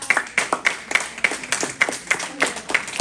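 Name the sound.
congregation applause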